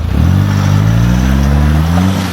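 Off-road vehicle engine droning and revving loudly up close on a rough wheeling track, a steady throaty roar with rising pitch as it climbs, no speech.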